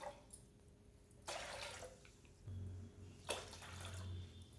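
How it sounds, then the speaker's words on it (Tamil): Water is poured into a pressure cooker in two separate bursts, each a splashy gush lasting about half a second, with quieter trickling and a low hum between them. "அஞ்சு டம்ளர் தண்ணி சேர்த்துக்கலாம்"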